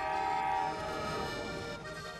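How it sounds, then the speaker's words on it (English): A scenic train ride in Slovenia, heard as a loud, sustained train horn blast with rich layered tones over rolling rail noise, fading slightly toward the end. "Or you can take a scenic train ride."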